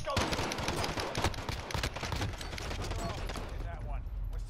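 Rapid gunfire from Call of Duty: Modern Warfare crackles continuously throughout, dense bursts overlapping with faint voice chatter underneath.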